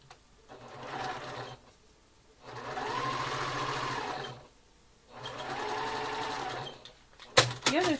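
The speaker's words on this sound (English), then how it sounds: "I'm gonna sew these together." Sewing machine stitching quilt pieces together in three close, steady bursts of whirring separated by short pauses, ending with a few clicks and handling noises.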